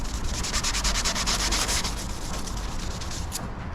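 Sandpaper scuffs a surface to a matte finish before a Raptor protective coating goes on, a loud continuous rasping rub with quick back-and-forth strokes, close and steady throughout.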